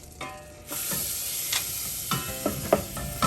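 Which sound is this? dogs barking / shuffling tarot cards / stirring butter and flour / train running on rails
stirring butter and flour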